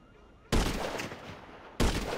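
Two loud gunshots in Grand Theft Auto 5, each a sharp blast with a long decaying tail, the first after a quiet stretch and the second near the end, with no talk over them.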